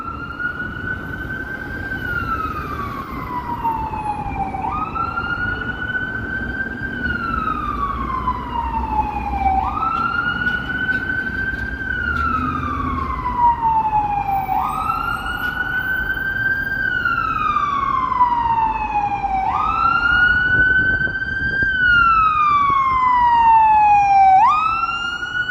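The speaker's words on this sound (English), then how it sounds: "It's like this ambulance is stuck in traffic here." A loud wailing ambulance siren, stuck in downtown Toronto traffic on a chilly evening, sweeps up and down in long repeating cycles, close by, over the low rumble of idling traffic.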